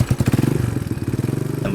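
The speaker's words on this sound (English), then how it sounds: "I started the engine" A small homemade ATV engine, just started with a recoil starter, runs nearby with a fast, steady, loud chugging pulse and mechanical clatter throughout.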